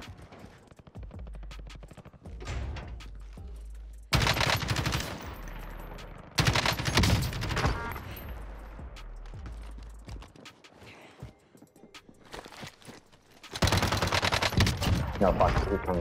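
Automatic and single-shot gunfire in a close gunfight in Call of Duty: Warzone, coming in dense bursts separated by quieter stretches, loud and near with no talking.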